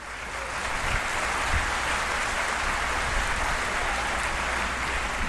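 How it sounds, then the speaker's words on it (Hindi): Loud, continuous applause fills a large hall at a national film awards ceremony, a dense roar of many hands building quickly and holding steady without talk. "जोरदार तालियां।"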